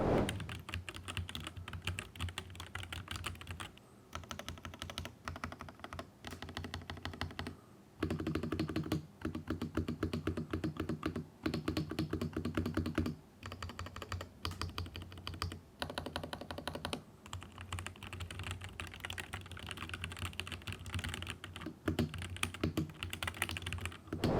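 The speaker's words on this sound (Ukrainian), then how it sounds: "перемикачі змащені, і це механічні ROG NX Red на 70 мільйонів натискань" Steady, continuous typing on a mechanical keyboard with lubricated ROG NX Red switches, close and fairly quiet, a dense rhythm of clacky keystrokes with a few brief pauses and no talking.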